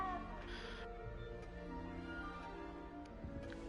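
A cat meows in the video game Hogwarts Legacy, a short, fairly quiet call heard alone over steady game background tones.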